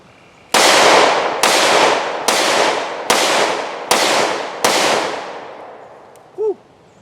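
Six sharp, loud gunshots from a Smith & Wesson M&P 2.0 Performance Center 10mm handgun, fired at a steady pace about a second apart. Each report rings out briefly, and a short faint sound follows after the last shot.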